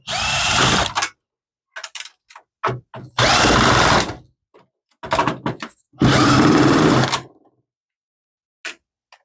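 A power screwdriver backs screws out of a Dell PowerEdge R320 server's motherboard in three long whirring runs, with several short buzzing bursts between them and silent pauses.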